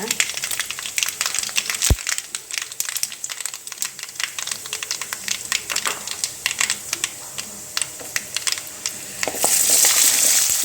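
Lentils and dried chillies frying in hot oil for mango pachadi, a busy crackle of rapid sputtering pops and spits close by, with a louder hiss swelling near the end.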